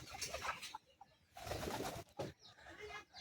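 Local village pigeons coo nearby in bursts, soft throaty calls that swell and break off with short quiet gaps between them.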